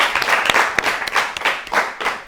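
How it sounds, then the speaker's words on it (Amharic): An audience on a children's television quiz show claps together, a lively burst of applause with uneven rhythm that swells and fades, fairly close and without speech. "አጨብጭቡላችሁ።"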